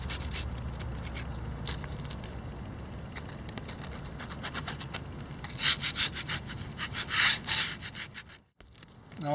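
Dried Elmer's Pro Bond wood filler being scraped off a wood surface, a steady run of close rasping strokes that grows louder and sharper toward the end before a brief silence.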